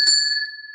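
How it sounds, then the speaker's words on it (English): A single bell struck once to rouse viewers during a live Mother's Day sale, ringing with a bright, clear tone that sustains and slowly fades, alone without talk. "let's ring the bell."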